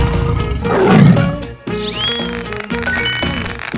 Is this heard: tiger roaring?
yes